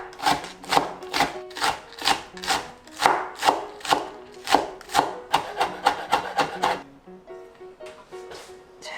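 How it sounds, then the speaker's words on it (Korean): Knife chopping green onion finely on a wooden board, a steady run of about twenty sharp, close taps at a quick even rhythm, then quieter scraping at the end. "대파는 70g 이렇게 송송 다져볼게요"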